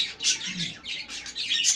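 A pet budgerigar chirps in quick, bright bursts at close range, steady chattering tweets with no talk.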